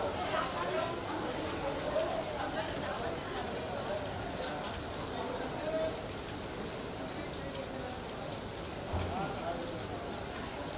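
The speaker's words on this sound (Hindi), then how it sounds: "बारिश हो रही है" Rain falls in a steady, dense patter on surfaces, a continuous hiss with scattered drops throughout, fairly close and moderately loud.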